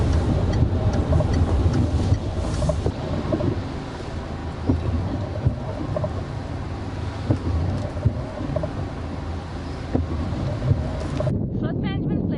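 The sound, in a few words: car driving through 6 to 12 inches of flood water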